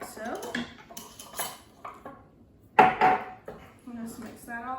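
Chicken casserole with Rotel stirred in a hot, bubbling pan, a few clanking scrapes of a utensil against the pan mixed with someone talking over them.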